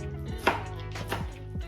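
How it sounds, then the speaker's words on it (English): A knife chops lettuce on a cutting board in a few quick, close, crisp strikes, with no talking. "we're done chopping up our lettuce"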